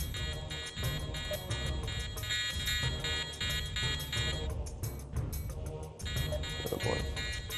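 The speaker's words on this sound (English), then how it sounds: "Oh, those alarms." Electronic alarms blare continuously in a dense, buzzing wall of tones over explosions and game noise in Call of Duty: Modern Warfare II, briefly dipping before resuming loud.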